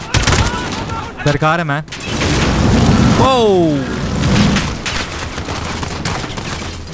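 Gun battle in Call of Duty: Modern Warfare, Hindi gameplay in the Hometown mission: dense, continuous gunfire and booms fill the whole stretch, with someone talking over the din.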